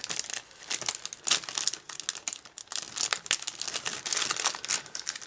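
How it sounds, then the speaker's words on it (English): Stiff plastic of a large resealable bag from a 1/35 scale 7TP light tank model kit crinkles and crackles continuously as it is worked open, close and fairly loud, with no talking. "Very big plastic bag, as you can see. Is this resealable? Yes, it is actually."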